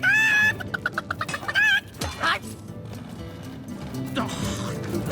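A chicken in the video game Divinity: Original Sin clucks in quick, loud bursts near the start. Voices and game sounds follow.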